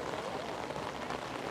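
Steady rain falls during a storm at a fishing port, a soft, even patter on surfaces with no talk over it.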